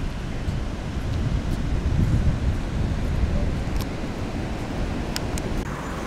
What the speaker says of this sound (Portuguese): Grandes ondas.